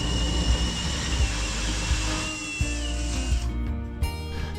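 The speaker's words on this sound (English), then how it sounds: "So I'm gonna try the old hole saw, drill a new hole that will actually fit" A hole saw bores a new hole through a ceiling near a joist, giving a steady, loud grinding whine that shifts in pitch midway and cuts off briefly near the end.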